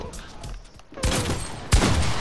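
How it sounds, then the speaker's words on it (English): Rapid bursts of gunfire in the video game Fortnite crack out in quick volleys, loud and close, with a sharp louder shot near the end; a voice speaks faintly in the background. "Well, Robert, why are you shooting me?"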